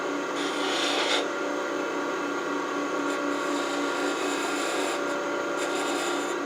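A skew chisel scrapes and cuts fine detail into a wooden finial for an antique bedpost on a running lathe, giving a steady close rasping hiss with brief brighter scratches and a constant motor hum beneath, no voices.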